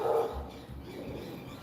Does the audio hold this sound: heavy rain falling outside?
no